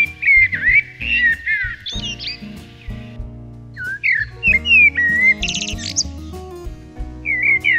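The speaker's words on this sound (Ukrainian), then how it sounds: "Повертаючись навесні до місця гніздівлі, самці дуже дзвінко та мелодійно співають." A male common blackbird (Turdus merula) sings in spring, loud and close: fluting, melodic whistled phrases with fast warbles and twittering trills, repeated in bursts with short pauses, over a low musical backing.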